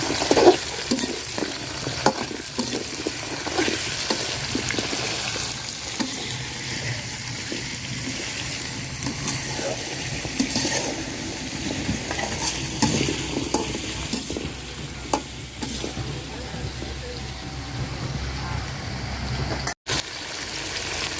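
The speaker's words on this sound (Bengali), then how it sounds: "আলুগুলাও একটু ভাজা নিব পেঁয়াজ মরিচের সাথে" Potatoes fry with onion and chili in a pan, giving a constant close sizzle with frequent scraping and stirring clatter, a brief sharp knock near the end.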